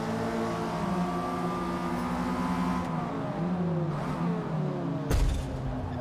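Race car engine in Forza Motorsport droning and revving steadily through a stiff-handling race drive, with a brief sharp bump or knock near the end; nobody talks.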